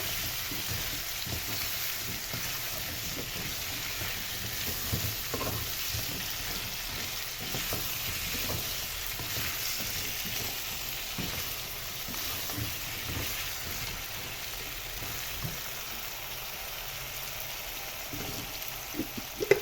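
Onions sautéing with salt in a pan on the stove: a continuous, even sizzle and crackle with faint stirring scrapes throughout, close and moderately loud, with no one speaking.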